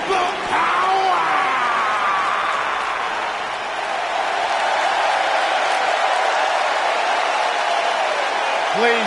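A crowd in the WWE 2K19 wrestling video game claps and cheers in a continuous loud roar under someone commentator's voice.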